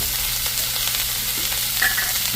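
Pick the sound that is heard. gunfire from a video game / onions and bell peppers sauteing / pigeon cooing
onions and bell peppers sauteing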